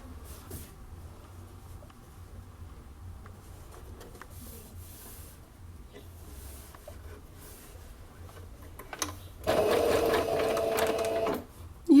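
A sewing machine runs a steady two-second burst of stitching through fabric for a dental hygiene kit, close and fairly loud, after a long stretch of quiet handling.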